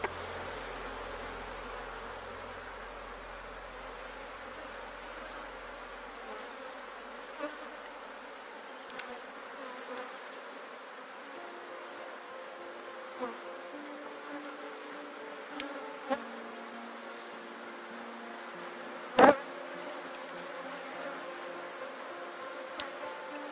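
Honeybees buzzing around an opened hive frame, a steady dense drone that carries through the whole stretch, fairly faint and even, with occasional light clicks and knocks from handling.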